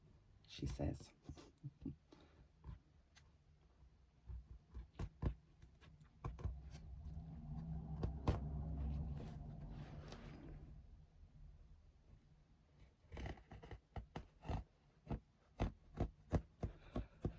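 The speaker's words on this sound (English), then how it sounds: "I am using a seam ripper badly" A seam ripper picking out basting stitches, giving a run of sharp little clicks and snips, with a scratchy rubbing stretch in the middle, close and quiet while a voice talks over part of it.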